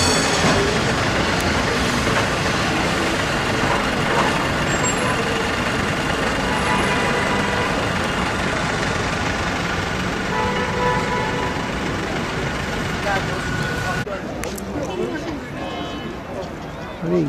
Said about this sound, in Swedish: Nu är vi tillbaka vid järnvägsstationen i alla fall.